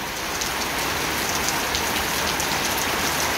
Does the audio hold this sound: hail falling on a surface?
yes